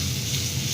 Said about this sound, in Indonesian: Lalu kita akan tumis bumbu yang sudah dihaluskan